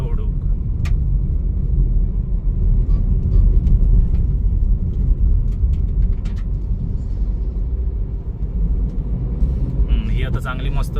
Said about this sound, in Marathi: पुढचं ट्रक कसलो धुळ उडी जातं भयंकर.